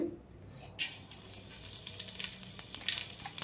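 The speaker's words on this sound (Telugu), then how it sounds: "ఇది వేడైన తర్వాత ఇందులో ఒక టేబుల్ స్పూన్ వరకు జీలకర్ర వేసుకోవాలండి" Cumin seeds drop into hot oil and break into a sudden, bright crackling sizzle that continues as fine popping, close and fairly quiet, with no voices over it.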